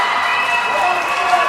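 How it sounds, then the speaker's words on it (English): Parents cheer at an 11-year-olds' ice hockey game in an arena, a loud continuous crowd roar with mixed shouting voices. "Great job, parents, cheering for your kids."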